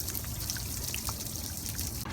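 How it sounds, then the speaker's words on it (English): Spring water pours steadily into a jug at an outdoor spring, a close, continuous splashing trickle that holds steady throughout with no talking. "She's filling up my jug that I wrote all positive words on."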